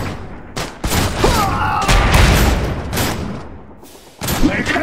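Gunfire in the real-time strategy game Iron Harvest: bursts of rapid shots and blasts crackle loudly in clusters, with unit voice lines heard over the combat.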